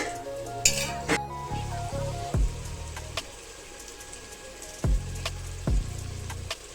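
Vegetable pulav frying in a pan as it is stirred, a steady soft sizzle broken by repeated scraping knocks and clinks of the spoon against the pan.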